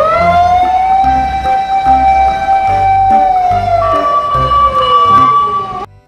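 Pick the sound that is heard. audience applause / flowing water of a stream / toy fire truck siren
toy fire truck siren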